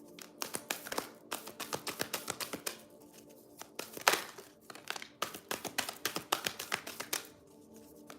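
A deck of tarot cards is shuffled by hand, giving quick bursts of crisp riffling taps and slaps in an uneven rhythm. The sound is close and fairly quiet, with no talking.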